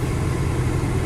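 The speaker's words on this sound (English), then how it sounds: "So I'm just gonna keep the engine running" 1995 Honda Civic Si hatchback engine idling with its headers removed, a steady low, even rumble that stays constant throughout, close by and alone with no voices.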